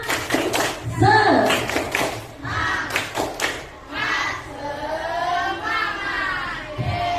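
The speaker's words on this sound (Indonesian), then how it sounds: "Tepuk semangat dulu." A school class performs a rhythmic spirit clap, sharp bursts of hand claps in short patterns mixed with children's chanted voices, loud and close, settling into quieter vocal chanting.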